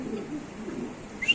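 White King pigeons coo softly in low, rolling murmurs, close by, ending with a brief higher chirp.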